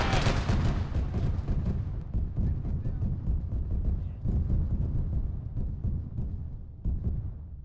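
Rapid heavy autocannon bursts in a video game boom and thud repeatedly, loud at first and echoing, with a few scattered later shots trailing off.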